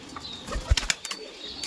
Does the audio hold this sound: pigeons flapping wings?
yes